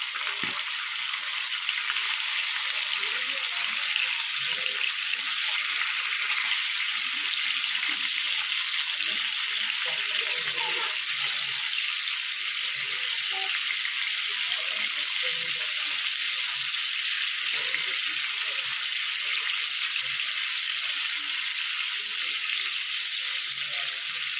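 Korameenu murrel fish frying in a pan, giving a steady loud sizzle that runs unbroken throughout, with faint scraping from turning the pieces.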